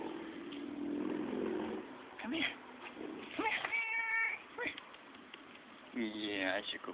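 A cat meows several times, with harmonic, wavering cries near the microphone, mixed with soft background noise and brief murmuring.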